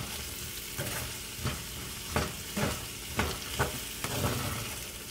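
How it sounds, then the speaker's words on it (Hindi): Ground coriander, turmeric and red chilli being stirred in a hot pan, a steady soft sizzle broken by a regular series of scraping spoon strokes, close and heard alone. "धनिया पाउडर, हल्दी, लाल मिर्च, मसालों को अच्छे से मिक्स मिक्स मिक्स कर दूंगी।"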